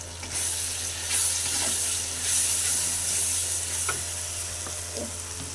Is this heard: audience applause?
no